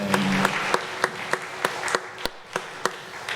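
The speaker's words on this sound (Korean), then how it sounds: "우리 하나님께 영광의 박수 올립니다." A church congregation at a Sunday worship service claps in a steady rhythm, sharp regular beats of hands sounding together about every third of a second, fairly close and alone without voices.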